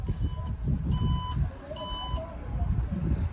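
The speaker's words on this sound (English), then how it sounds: "Makes a beeping sound to alert anyone so that they don't get hit by the trunk as it's opening" Alfa Romeo Stelvio (2022) trunk warning chime: a repeating series of short, clear beeps in bursts sounding as the tailgate opens, over low outdoor rumble and faint background voices.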